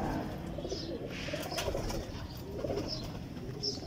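Soft, repeated pigeon coos rise and fall over a steady low background rumble, a few calls in a row from nearby.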